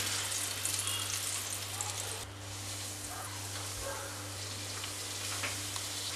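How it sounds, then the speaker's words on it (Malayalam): A batch of egg snack deep-fries in hot oil, giving a steady, dense sizzle and crackle throughout, with a low hum in the background. "നമുക്ക് ബാക്കിയുള്ളത് കൂടെ ഫ്രൈ ആക്കിയെടുക്കാം"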